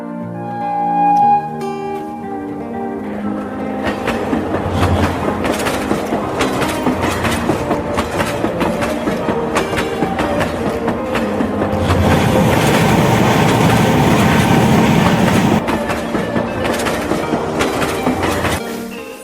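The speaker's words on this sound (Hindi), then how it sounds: "फाइनली 12:15 बजे हमारी ट्रेन आ गई है।" A passenger train pulls into Banaras railway station, its loud rumble and rhythmic clickety-clack of wheels over rail joints filling the platform steadily and swelling louder midway before easing, with no talk.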